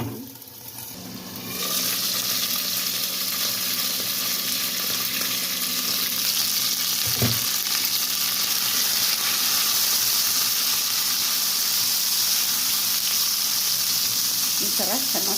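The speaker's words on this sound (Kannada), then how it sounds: "ಮೆಣಸಿನ್ಕಾಯಿ ಸಿಡಿಯುತ್ತೆ ಡಮ್ ಡಮ್ ಅಂತ" Green chillies and garlic frying in oil in a pan with the lid closed, a loud, dense, continuous sizzle and splutter that fills the whole stretch, with a brief sharp pop near the middle.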